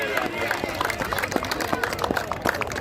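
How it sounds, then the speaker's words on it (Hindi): Applause from the crowd at a cricket final's prize ceremony, steady rapid clapping throughout, with someone speaking over it on the public address. "ये तालियां जी"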